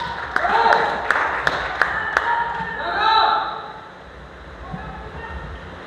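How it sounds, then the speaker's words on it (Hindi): Audience in a lifting and rigging safety training session clapping hands, a series of about six sharp, evenly spaced claps, moderately close, with talk around them. "फिर से बजाओ ताली एक बारी"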